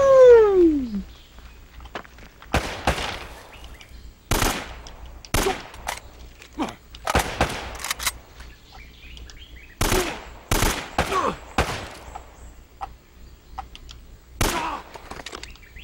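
Handgun and rifle gunfire in the game Uncharted: Drake's Fortune, sharp irregular shots, some single and some in quick bursts, spread across the scene with short gaps between them.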